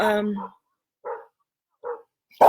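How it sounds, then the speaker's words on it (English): Neighbourhood dogs bark in the distance, a few short, muffled barks spaced about a second apart after a person stops talking. "The neighbor dogs are barking, so now Freckles is also responding."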